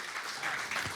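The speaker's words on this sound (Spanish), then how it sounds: "El aplauso sea para Dios." Church congregation applauding together, a dense steady wash of clapping hands filling the room for about a second.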